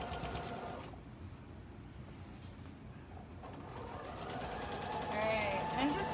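A sewing machine runs a straight stitch on dress fabric with a soft, steady mechanical hum, picking up slightly toward the end, with faint voices in the background.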